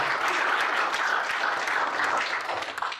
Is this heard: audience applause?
yes